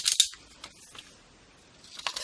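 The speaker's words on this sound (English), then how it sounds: "fancy pair of scissors to give it some interest" Fancy decorative scissors snip through postcard paper for a junk journal, a couple of crisp close cuts at the start and another at the end with quiet between.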